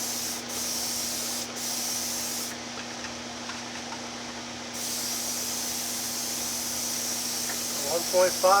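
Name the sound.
Black Widow airbrush spraying enamel paint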